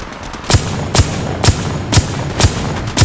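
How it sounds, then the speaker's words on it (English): Gunfire from a weapon in the mobile battle royale game Apex Legends Mobile: six sharp, evenly spaced shots about half a second apart, loud and punchy over a steady game backdrop. "Opening fire on the enemy."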